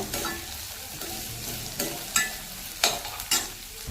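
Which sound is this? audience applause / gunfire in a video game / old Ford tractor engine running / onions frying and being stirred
onions frying and being stirred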